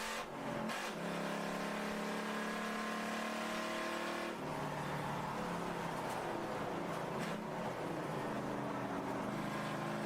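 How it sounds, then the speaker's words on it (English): A loud, droning Volvo race car with exhaust trouble, harsh exhaust note holding steady and shifting pitch once or twice, heard from a distance at an endurance race at Watkins Glen, without voices. "It sounds like the Volvo's got some exhaust issues."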